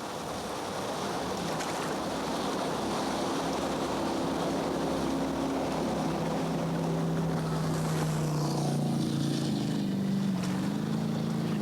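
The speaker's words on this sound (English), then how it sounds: "There goes 266 by, and the red 200 boat has gone by as well." A racing jetboat in a U.S. championship race on the Payette River, Idaho, roars past with a steady high engine drone and rushing water that swells closer, then shifts pitch as it moves away, with no talk.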